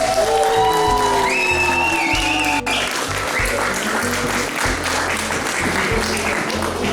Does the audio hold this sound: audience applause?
yes